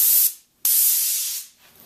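A Graco paint sprayer doing test sprays onto cardboard, two loud, steady airy hisses separated by a brief silent pause, the second fading out near the end, with no talking.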